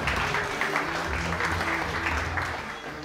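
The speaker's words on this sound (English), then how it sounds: "Can we please have a final round of applause for Thomas Hemsley?" An audience at a live slide-presentation evening gives a final round of applause, dense steady clapping that fills the room throughout and tapers slightly at the end.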